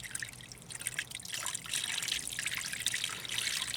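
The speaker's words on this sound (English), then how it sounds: "now we got some clean water. We're just dumping it on there." Clean water is dumped out of a container onto the ground during car battery work, a splashing, trickling pour that runs steadily for several seconds, close by with no talk.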